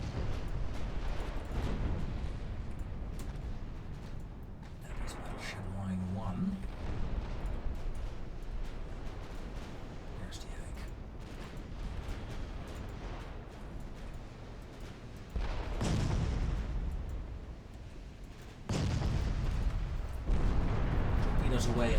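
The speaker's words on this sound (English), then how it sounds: "I believe my destroyers are under heavy gunfire" Heavy naval gunfire in Ultimate Admiral Dreadnoughts as destroyers fight an Italian battleship: continuous low rumbling booms with louder bursts near the end, while a voice talks over much of it.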